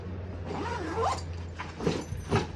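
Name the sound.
zipping the Darche Ridgedome tent bag closed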